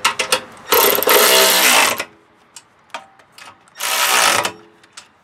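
Ratchet tightening bolts that hold the tank on a DeWALT pressure washer with a Honda GX200 6.5 HP engine, in two loud, rapid clicking bursts of about a second each, with sparse single clicks and taps between them and no talk.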